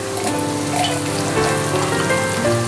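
Chopped onion hits melted butter and garlic in a pan while making tomato and corn soup, giving a steady, close sizzle that runs evenly throughout over a faint tonal background.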